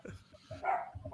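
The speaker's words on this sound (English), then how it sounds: "My dog going nuts." A dog barks and yelps excitedly in a few short bursts, fairly close, over a busy room with voices talking around it.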